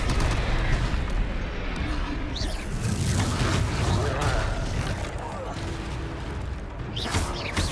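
Confringo fire spell blasts crackle through a Hogwarts Legacy battle, loud booming bursts layered over dense clashing effects and ongoing voices.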